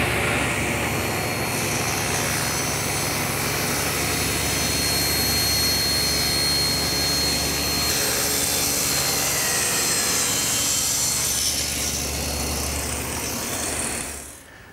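A table saw rips tapered wooden legs for a wheelbarrow, guided by a homemade tapering jig: a steady, loud whining cut with a low motor drone that holds for about thirteen seconds, then winds down at the end.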